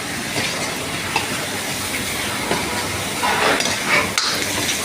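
Boiled chicken liver, seasoned with salt and turmeric, frying in a pan, a steady close sizzle with occasional stirring scrapes and clinks of a utensil.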